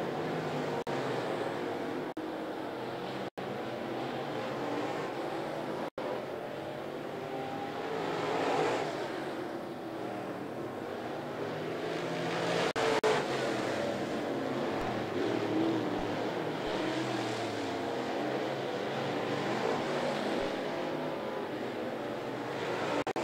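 Late model race cars lapping at 411 Motor Speedway, a continuous distant engine drone that swells and fades as the field passes, with a faint crowd and open-air wash behind it.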